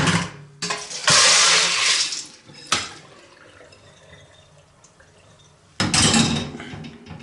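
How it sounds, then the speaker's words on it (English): Soaked pinto beans rinsed in a drainer under a tap: loud bursts of rushing water with rattling beans, separated by quieter dripping gaps, the water returning strongly at the end. "And rinse them again."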